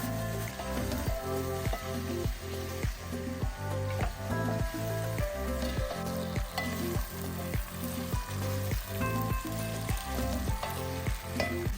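Peppers sautéing in a pan at home, a steady close sizzle with a regular, rhythmic pulse running through the whole stretch, and no voices.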